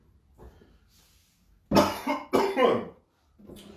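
Two harsh, close coughs in quick succession, loud against an otherwise quiet room with faint breathing around them.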